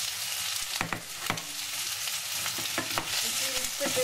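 Zucchini and onion fry in hot olive oil with a steady, loud sizzle, broken by a few sharp scraping stirs of a utensil against the pan, close up and with no talking.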